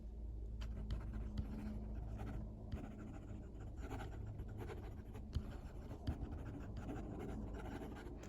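Quick, continuous scratching of a fountain pen nib across paper, close up, with light strokes and small taps in a rapid rhythm.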